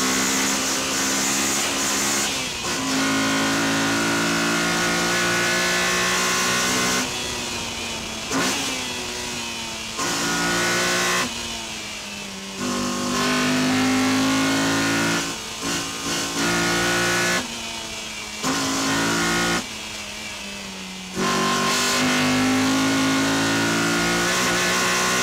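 Honda four-cylinder sports car engine revving toward 7,800 RPM, a loud, near, high-pitched wail climbing and dropping in repeated bursts with brief pauses between pulls.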